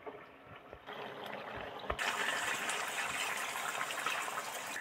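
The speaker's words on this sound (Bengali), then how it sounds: "অল্প পরিমাণে গরম জল দিয়ে দিলাম" Hot water is poured into a pan of chicken curry, a gushing, splashing pour that starts around two seconds in and keeps going steadily to the end after a quieter opening.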